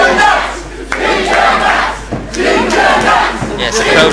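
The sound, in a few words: crowd cheering and shouting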